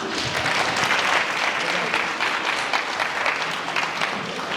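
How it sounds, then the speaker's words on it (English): Steady, dense audience applause fills a welcoming moment at a Somali Museum cultural day event in Minnesota, loud and continuous with no pauses. "You guys can give another warm welcome and applause for Trina Swanson and Abdulzak Behe."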